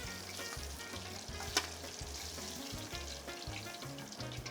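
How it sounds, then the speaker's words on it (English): Fish frying in hot vegetable oil gives a dense, continuous close-up sizzle and crackle, with a brief sharper pop midway and low rumbling handling noise underneath. "Deep fried is we use the veggie oil, corn oils, or you can do soy oil."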